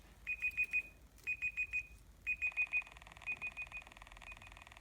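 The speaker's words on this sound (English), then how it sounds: "I've got my kitchen timer on." A kitchen timer alarm beeps in rapid groups of four high, piercing tones with short pauses between them, then shifts to a softer, sustained ringing pattern that continues after the groups end.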